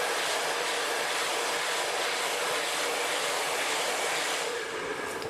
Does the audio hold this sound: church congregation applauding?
no